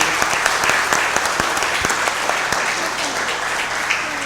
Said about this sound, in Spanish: Denle un aplauso al Señor por este pequeño